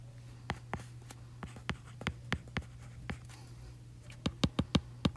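A pen scratching out handwriting on a surface in short separate strokes, then a quick cluster of taps near the end, heard close up over a steady low hum with no talking.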